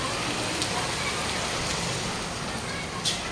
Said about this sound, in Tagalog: umuulan po sobra